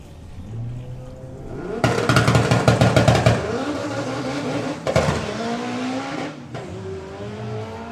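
A Volkswagen Passat drag car launches at a drag racing event, the engine revving hard through rapid gear changes with a loud, rough roar that settles into a steadier drone as it pulls away.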